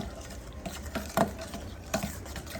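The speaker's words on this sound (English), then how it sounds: "I'm just gonna mix these" Macaroni salad sauce ingredients with black pepper and dill weed being stirred together in a bowl, soft wet scraping with a couple of louder clinks of the utensil, close up and with no talking.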